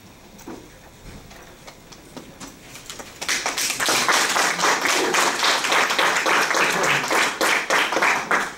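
Clapping breaks out at a county commissioners meeting during public comments, starting as scattered claps and swelling into steady, dense applause from a room of people that continues to the end.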